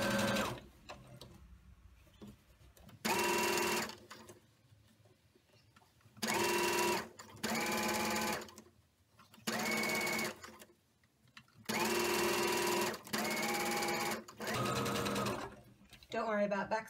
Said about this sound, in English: on my machine I've chosen the longest stitch possible, and my 2 together, needle in, and I'm just going to stitch all the way along here